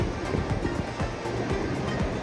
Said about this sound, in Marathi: किती सारे त्याला धबधबे येत आहेत वरती तर बघा.